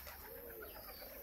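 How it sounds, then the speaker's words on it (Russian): Domestic pigeons coo softly in a low, murmuring run near a dovecote, faint and steady against a background hiss of outdoor ambience. "Или же вот эта вот голубка синим помазанная."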